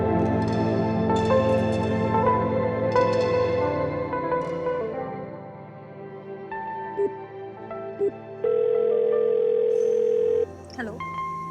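People talk, then a steady electronic phone tone sounds for about two seconds near the end and cuts off without anyone answering.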